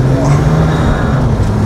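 A turbocharged Porsche of over 600 hp rumbles inside the cabin, a loud, steady low engine drone with shifting tones as it pulls, heard close over short bursts of talk.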